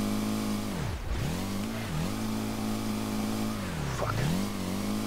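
A drift car's engine, a Street Legal Racing Redline game S15, revs loud and continuous throughout, its pitch dipping and climbing again through several throttle lifts and reapplications.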